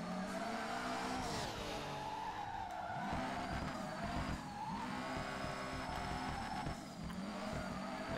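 Screeching tire squeal and revving engine from a car drifting in the racing video game Furidashi: Drift Cyber Sport, with continuous wavering squeals and engine drone throughout at moderate level.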